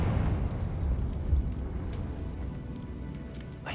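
Confringo blasting spell from Hogwarts Legacy, a low rumbling explosion that rolls on steadily for several seconds with crackling debris, close and heavy, no voices.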